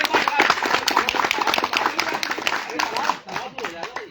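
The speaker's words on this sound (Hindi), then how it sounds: "तो हम लोग तालियां जोर में बजाओ" A rally crowd claps loudly and continuously, a dense patter of many hands running through the whole stretch with voices mixed in.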